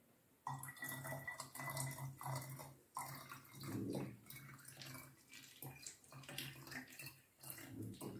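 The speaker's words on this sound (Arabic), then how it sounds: "الآن سوف نفرغ 50 سنتيلتر للمرة الثانية." Water glugs and splashes as it pours out of a 50 cl bottle into a container, in several uneven bursts, close and fairly quiet, with faint background noise.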